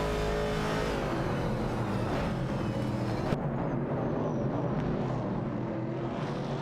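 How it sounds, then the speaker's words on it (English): Video game race cars, a Ford Falcon and a Pontiac Firebird 70 battling for 12th place, give off a steady loud engine roar that drones on throughout, with engine tones that waver and shift. "A battle for 12th place is ongoing between Resultiadhar in a Ford Falcon and Ricky095 in a Pontiac Firebird 70."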